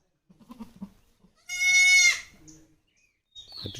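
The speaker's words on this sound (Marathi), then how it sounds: "नवीन नवीन पिल्लाचा आवाज" Newborn goat kids bleat near a village with bamboo in the Mahad area, one loud drawn-out cry standing alone, then fainter calls and scattered rustling.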